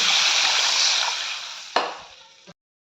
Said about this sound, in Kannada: ಒಂದು ಒಂದೂವರೆ ಗ್ಲಾಸ್ ನೀರು ಹಾಕ್ಕೊಳ್ಳಿ